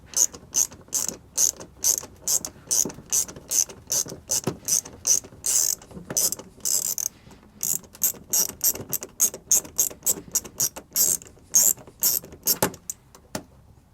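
A 1/4 inch ratchet turns a long screw on a GM molded rear splash mud guard, giving dense rapid clicking in quick bursts with brief pauses, repeated close up for over a dozen seconds.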